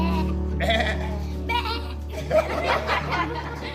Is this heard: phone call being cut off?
no